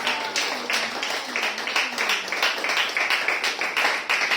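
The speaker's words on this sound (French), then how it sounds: "Acclamez très fort pour la partie prophétique." A church audience claps in rapid, uneven bursts of applause with some cheering, filling a hall at moderate volume throughout.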